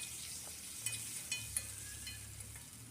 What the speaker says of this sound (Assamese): গোটেইখিনি আম আৰু ভালদৰে লাৰি দিম